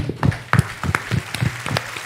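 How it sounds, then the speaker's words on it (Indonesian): A few people in a studio or meeting-room audience give sparse, rhythmic claps, sharp separate smacks about four per second, close and fairly loud with quiet gaps between. "Tepuk tangan dulu dong."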